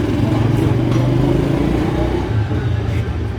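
A Honda VTX 1300 motorcycle engine idles and runs steadily nearby with a loud, continuous low rumble throughout.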